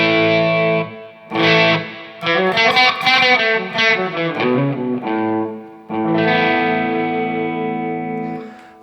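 An electric guitar on the bridge pickup with the volume rolled down to 5 plays a couple of strummed chords, then a quick run of single notes, and ends on a long ringing chord. It sounds mildly distorted, loud and up close, with no voices.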